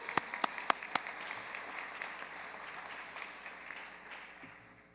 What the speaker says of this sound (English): Please join me in another round of applause for our doctoral graduates.